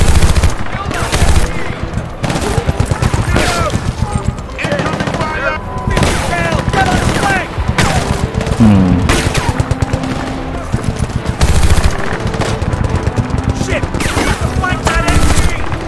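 Rapid machine gun bursts in the shooter video game Battlefield Bad Company 2, loud repeated volleys of sharp shots in quick rhythmic strings across the clip, with occasional talk in between.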